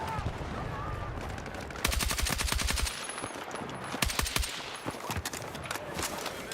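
Rapid automatic fire from an SG-553 rifle in Battlefield 6, coming in several close, loud bursts of quick cracks with game ambience between them.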